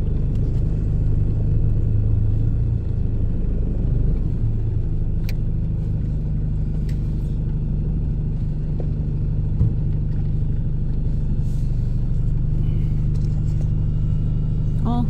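A car engine rumbles low and steady while the vehicle reverses on a rough dirt road in Guinea, a continuous close drone with small knocks and rattles throughout.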